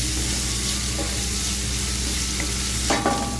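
Mint rice mixture sautés in a pan as salt goes in. There is a soft, continuous sizzle with a few scraping clinks of a spoon near the end.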